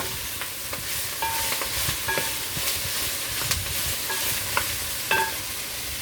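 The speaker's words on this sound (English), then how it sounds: "So I just saute in this for a bit." Sautéing in a pot for Jamaican fish tea with green banana, a constant loud sizzle and hiss with occasional scraping stirs and small clinks throughout.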